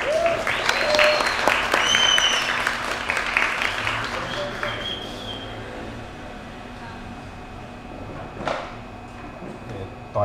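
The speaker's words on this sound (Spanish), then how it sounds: "Y un aplauso para usted." Audience applause greets a graphic designer and illustrator at a live talk event, a dense burst of clapping that thins and fades after a few seconds, with voices murmuring beneath and a lone sharper clap near the end.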